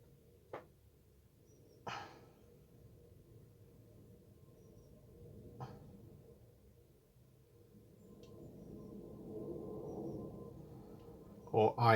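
A dog named Judo barks at something in the garden: a few short, sharp barks spaced apart, faint and distant, with quiet talking partway through.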